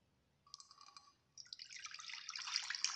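Water pours from a container into a pot holding about 150 grams of washed grapes, a brief trickle followed by a steady, close splashing pour that grows louder toward the end.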